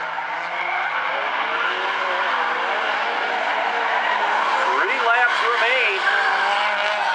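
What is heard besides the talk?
Stinger 8 race cars racing at South Sound Speedway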